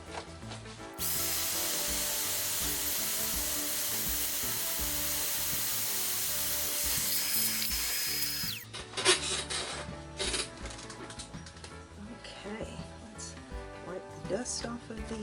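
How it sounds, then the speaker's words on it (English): Sanding the edges of a resin beverage coaster, a steady loud abrasive whir lasting several seconds, then stopping and giving way to quieter intermittent rubbing and handling noises. "So I'm just sanding that down as I go around the edges."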